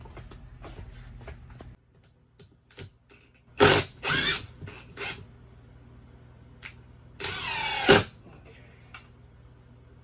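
A power drill drives screws to mount a ceiling fan bracket, with two loud, close whirring bursts of a few seconds each over a quiet room background.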